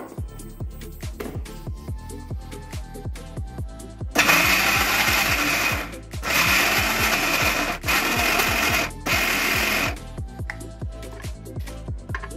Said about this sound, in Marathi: आता हे सगळं मिक्सरला फिरवून घ्यायचं